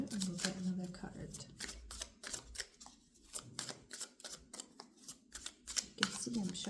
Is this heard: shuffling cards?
yes